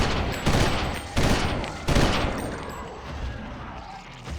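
Gunfire in the video game Eternal Darkness: three loud broadband shots at roughly even intervals, each followed by a decaying echoing tail, over a busy game soundscape.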